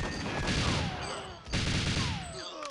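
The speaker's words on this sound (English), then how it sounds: "Then we switch to the RCP and gun them down as they respawn." Rapid submachine gun fire from the RCP-90 in the GoldenEye video game, sustained automatic bursts with a short break near the middle, loud and close with no talking.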